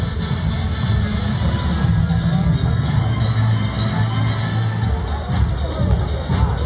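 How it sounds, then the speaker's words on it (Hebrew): An audience at a ballroom dance competition in Beer Sheva cheers and applauds, a loud, dense crowd roar sustained throughout with voices mixed in. "תנו להם עוד קצת מחיאות כפיים"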